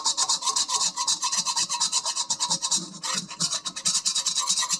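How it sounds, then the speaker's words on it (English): A spatula or utensil scrapes burned bits from the bottom of a cooking pan in quick, steady rasping strokes, close and fairly loud throughout with no talking. "Gonna try to scrape up all these bits so I can go for round 2."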